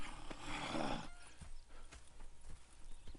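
Horse hooves clip-clop in Red Dead Redemption 2, a brief rough rush of noise followed by several distinct, moderately close hoof knocks at an uneven walking pace, fairly quiet and with no talk.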